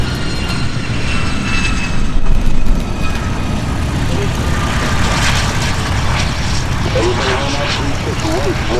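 A fixed-wing airplane lands at EAA AirVenture Oshkosh and rolls down the runway, a loud continuous engine and propeller roar with steady tire and wind rumble, alone without talk.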